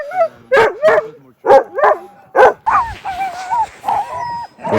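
Sled dogs in Swedish Lapland bark, yip and whimper in a rapid run of close, loud calls as they wait to set off sledding, with a high whine trailing into the later seconds.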